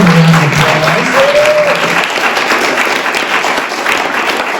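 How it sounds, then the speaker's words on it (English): Applause from a church forum audience rolls on steadily and fairly loudly, a dense wash of many hands clapping that fades only slightly toward the end. "Let's give him a round of applause"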